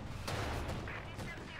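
Tank cannon fire from a T-70 in Company of Heroes 2, with two or three sharp booming blasts over a low rumbling battle din, fairly faint and with no talk.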